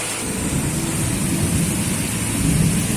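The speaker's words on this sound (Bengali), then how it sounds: "প্রচুর বৃষ্টি হচ্ছে আজকের বৃষ্টিটা মানে সব থেকে বড় বৃষ্টি" Heavy rain with large drops pouring down around a house with a waterlogged veranda, a dense, loud, continuous roar with no pauses.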